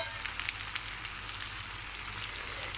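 Chopped local sour tomatoes sizzle in a pan of vegetable curry, a steady close frying hiss with faint crackles and no talk.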